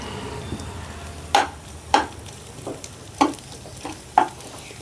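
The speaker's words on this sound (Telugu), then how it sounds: "ఉల్లిపాయ ఫ్రై అయిందండి దీనిలో కొద్దిగా అల్లం వెల్లుల్లి పేస్ట్ కూడా వేసుకుందాం" Onions frying in a pan with ginger garlic paste added for a cabbage curry, a steady low sizzle broken by about six sharp stirring scrapes at a regular pace, close and alone with no talk.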